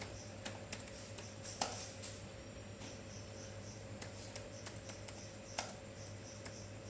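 Quiet, irregular key taps on a computer keyboard as a command is typed, scattered soft clicks over a constant low electronic hum and hiss.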